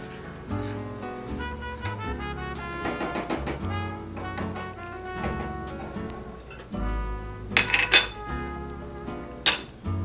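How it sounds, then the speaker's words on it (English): A spoon clinks and scrapes repeatedly against a pot while a pumpkin mixture is stirred over medium heat, the clatter close and busy and growing sharper toward the end, with no talking. "Stir that all up together"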